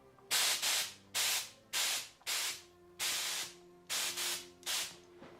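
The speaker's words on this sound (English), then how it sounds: "Now some compressed air." Compressed air releases in the Minecraft modpack Craftoria as a string of about eight loud, close hissing bursts, each under half a second, evenly spaced and separated by brief pauses, over a low electronic hum.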